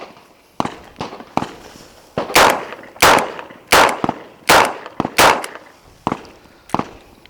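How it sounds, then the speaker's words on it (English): Rapid double-action shots from a Smith and Wesson 638 revolver fired at an outdoor range, about nine sharp loud reports in quick uneven succession, each ringing out briefly before the next. "I'm going to acquire the target as fast as I can and shoot as fast as I can"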